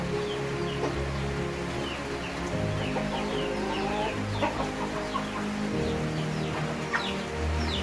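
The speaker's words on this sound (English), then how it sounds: "These are pure Kienyeji chickens." Kienyeji chickens on a small Kenyan farm cluck and chirp continuously at close range, hens and chicks calling over one another with a busy, overlapping rhythm and no talk.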